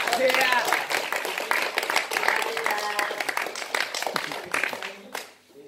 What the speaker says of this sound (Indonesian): Oke, tepuk tangan dong buat kita